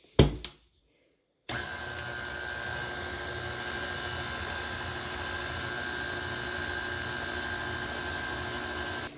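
An electric mixer beats dry ingredients into soft chocolate cookie dough. A few brief knocks and a short silence come first, then the motor starts with a loud, steady whir that runs on without pause and with no voices.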